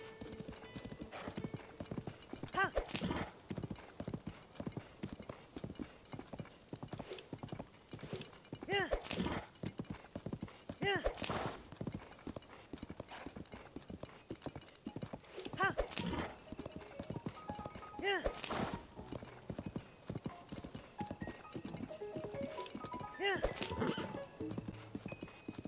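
Horse hooves clip-clop steadily at a gallop along a road in Zelda: Tears of the Kingdom, with occasional whinnies and a voice talking over the rhythmic hoofbeats throughout.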